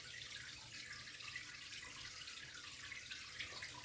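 Steady running water during an aquarium water change, a continuous hiss and splash like a tap filling a tank, fairly quiet and unbroken throughout with no talking.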